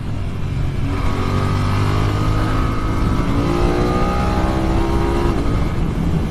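A BMW F900R motorcycle engine, rated at 105 horsepower, accelerating hard with rising engine pitch, loud and close with strong wind rush over a steady roar.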